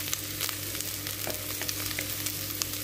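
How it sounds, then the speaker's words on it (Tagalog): Garlic sautéing with browned onions in a pan for a creamy chicken dish gives a steady, close sizzle with light crackles, heard alone without talk. "Pag-oroin lang din natin yung bawang"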